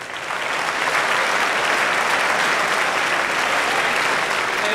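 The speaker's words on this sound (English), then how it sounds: "Can we give all of you a round of applause?" Audience at a university opening convocation breaking into sustained applause, a dense, loud wash of clapping from many hands that swells quickly and holds steady throughout.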